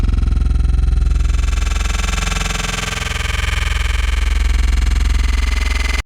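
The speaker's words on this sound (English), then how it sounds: "So it's like a really long, stretched out bass sound." A very long, stretched-out bass sample from Apache Reese 2 drones loud and steady for about six seconds, a dense, wide sustained tone with a slight dip midway before cutting off abruptly.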